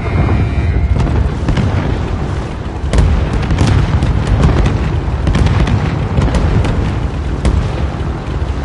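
Bombs exploding in a video game, heard as a dense, loud, continuous roar of blasts and rumbling booms with sharper bursts scattered throughout and no talk.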